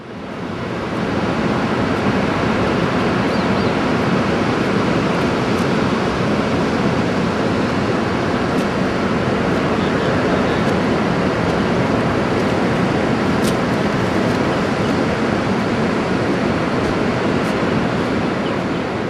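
Steady surf washing onto the beach at Cape Rivulet on Tasmania's South Coast Track, a continuous broad roar that holds at an even level throughout, with no voices.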